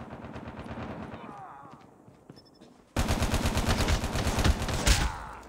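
Video game gunfire rattles in rapid automatic bursts, quieter and scattered at first, then a loud, dense stream of shots from about the midpoint to the end.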